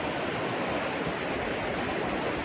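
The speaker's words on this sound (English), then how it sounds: "sitting here sort of under the bridge, the river behind." A river rushes over rocks beneath a bridge on a foothills hiking trail, a steady, loud, broadband roar of flowing water with no pauses, heard up close.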